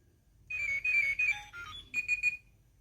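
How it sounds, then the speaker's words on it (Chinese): Alarm ringtone from a Xinjia XJ-665E talking wristwatch, a short electronic melody of high beeping tones played at close range, pausing briefly before a final quick trio of beeps. "我现在看一下这块手表里有什么样的闹钟铃声。"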